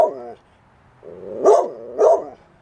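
Dog barking outdoors near a small 1925 cottage, a short yelp followed by two loud, close barks in quick succession.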